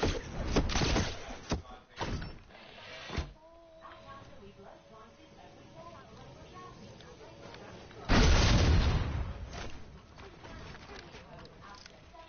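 Cannon blasts in a Fortnite-style season 8 battle royale match, heavy booming bursts near the start, around 2–3 seconds and again near 8 seconds, with a player talking between them.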